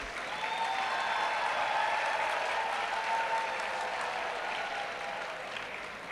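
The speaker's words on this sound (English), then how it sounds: "Please give a round of applause to those who made it to this final stage." At the UTeM Idol final, the audience gives a long, even round of applause that holds steady and then eases slightly. The clapping is moderately distant and carries no speech.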